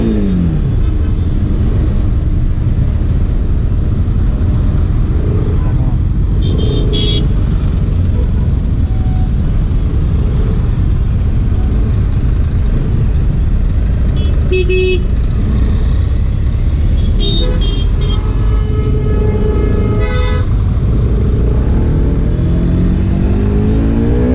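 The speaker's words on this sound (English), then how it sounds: "There is a lot of traffic." Heavy road traffic heard from a riding Bajaj Pulsar RS200 motorcycle: a constant loud roar of engines and wind, with several horn toots and passing vehicles scattered throughout.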